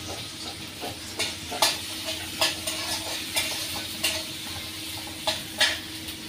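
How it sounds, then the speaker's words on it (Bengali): Onions with green and red chilies fry lightly in oil in a pan, a soft sizzle broken by repeated sharp scrapes and clicks of stirring at an irregular pace. "পেঁয়াজ আর মরিচ তো হালকা ভাইজে নিচ্ছি"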